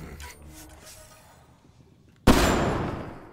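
A single sharp gunshot in the video game Mass Effect Andromeda, loud and close, cutting in abruptly after a quiet stretch and followed by a noisy burst that fades slowly.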